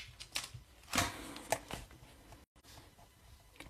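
Paper cards for a stamped rain-themed card project are cut three at once with a cutting tool, making a few quiet crisp clicks and paper crunches, close by, with no talking.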